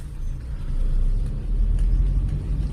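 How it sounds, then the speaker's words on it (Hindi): A car engine during a beginner driving lesson, a close, steady low rumble that swells slightly as the car gently picks up speed, with no talking. "राइट वाला पैर ब्रेक से एक्सीलेटर पे शिफ्ट करिए और हल्की सी स्पीड बढ़ाइए"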